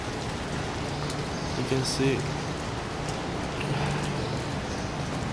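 Steady outdoor rain hisses evenly throughout during an inspection of a rusty fire escape in Boston, with someone talking briefly over the wash of falling water.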